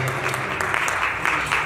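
A church prayer-evening congregation in Baltimore applauding to welcome a prophetess, dense continuous clapping with cheering voices, close and fairly loud throughout.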